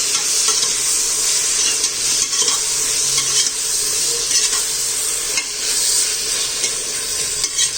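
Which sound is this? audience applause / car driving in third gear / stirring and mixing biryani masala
stirring and mixing biryani masala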